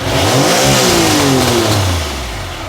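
Triumph Sprint 900 motorcycle engine revving hard up close, rising to a loud peak and then sweeping back down toward idle, with no one speaking.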